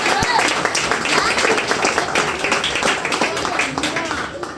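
A church congregation applauds in a steady, dense patter of clapping for several seconds, with voices talking and calling out over it in a reverberant worship hall.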